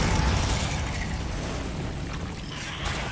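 A Bombarda spell detonates in the video game Hogwarts Legacy, a loud, dense blast with a rumbling low tail sustained for a few seconds, no voices over it.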